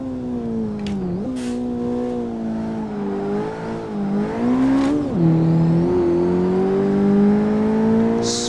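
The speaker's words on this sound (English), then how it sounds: "Smoking the tires a little bit coming out of the corners." A Daihatsu Copen races in Assetto Corsa, its small engine whining steadily at high revs and dipping briefly on gear changes and corner exits, with faint tire squeal while the tires smoke, and no talk.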